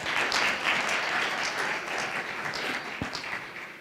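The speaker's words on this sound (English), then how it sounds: "A warm round of applause for Madame Dlamini Zuma and our representative from Spain" Applause from a conference audience for speakers, a soft continuous wash of many hands clapping at some distance, steady and fairly faint, gradually easing toward the end.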